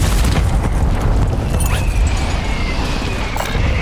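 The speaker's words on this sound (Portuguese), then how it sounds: "Ataque de morteiro aliado a caminho." A loud, sustained low rumble of an allied mortar strike in Call of Duty Warzone 2.0, with heavy booming blasts running through the whole stretch and no pause between them.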